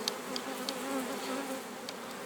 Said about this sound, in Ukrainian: бджола все одно агресивна